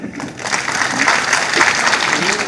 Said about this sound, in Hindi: एक बार अच्छा काम किया तो जोरदार ताली बजाइए